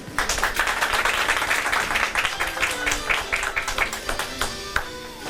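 Audience applause at a live sharing-ideas contest presentation, many hands clapping steadily and fairly close, a few sharper individual claps standing out as the round continues.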